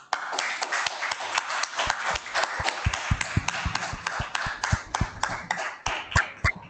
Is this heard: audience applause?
yes